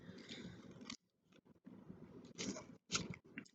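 Scissors snipping small pieces cut from an apple stem scrap, a few quick close crunchy cuts separated by short pauses, with no talking.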